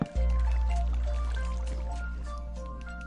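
Blocky game water rushes steadily along a Minecraft water slide in a PS4 theme park build, a continuous close flowing wash with a faint low hum that starts abruptly and slowly tapers.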